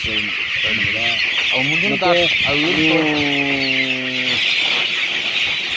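Chickens cluck and call in a series of close, loud vocalizations over steady background noise, with no talking.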